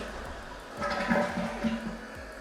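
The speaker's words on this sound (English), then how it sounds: "Give it a nice flush." Toilet flushing after a new fill valve and flapper are fitted: a modest rush of water swells for about a second, then fades to a low running trickle, heard fairly close in a bathroom.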